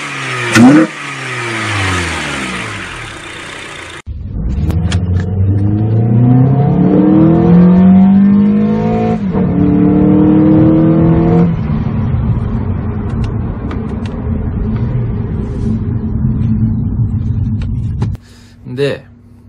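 An early-model Honda Odyssey with an aftermarket intake accelerates hard, the engine revving with a rising, loud mid-range drone through several gear changes, close and continuous, ending in a brief dip.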